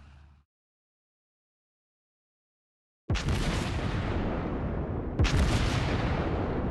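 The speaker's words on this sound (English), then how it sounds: "I'm going to go ahead and try to get a salvo of HE into that Seattle" Two heavy main-battery salvos of high-explosive shells boom from an Iowa battleship in World of Warships Blitz, a deep blast and then a second about two seconds later, each with a long rumbling decay after a brief silence.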